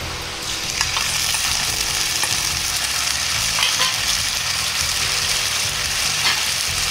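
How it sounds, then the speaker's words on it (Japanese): Chili sauce with shrimp is stirred and simmered in a pan, producing a continuous loud frying sizzle with scraping stir noises rising and falling throughout. "チリソースを入れたらよく混ぜながらグツグツとするまで加熱します。"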